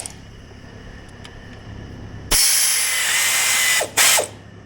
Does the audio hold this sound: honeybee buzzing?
no